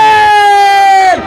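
Crowd at a Bengali waz religious gathering shouting the takbir in unison, a loud sustained chorus of many voices that drops off abruptly near the end.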